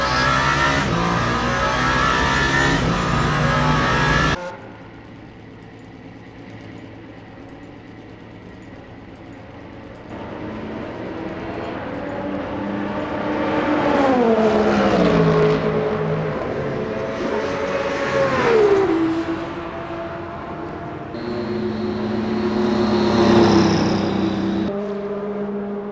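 Race cars roar through a night stint in Le Mans Ultimate, one loud engine droning steadily before cutting away to passing cars whose pitch rises and falls as they sweep by, revving and shifting with no talk.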